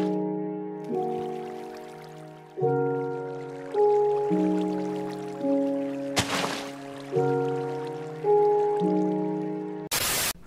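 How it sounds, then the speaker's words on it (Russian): Water in the video game Minecraft makes a couple of short splashing, rushing bursts, one midway and one at the end, over steady background music. "Вода в Майнкрафте."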